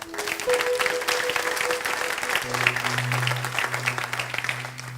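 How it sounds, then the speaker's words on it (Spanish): A crowd applauds steadily for several seconds, dense clapping filling the room with a low hum beneath it. "Vamos a darles un aplauso."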